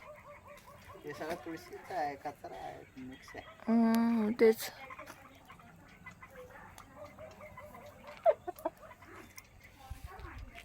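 Village chickens, including a rooster, cluck and squawk in short bursts around a person talking, with one sharper loud call standing out midway.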